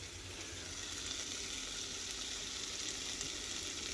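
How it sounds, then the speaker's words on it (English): Homemade hash crisps in a pan, a soft, even frying sizzle that stays faint and constant throughout, with no speech. "You really want to fry your hash until it gets a little bit crispy."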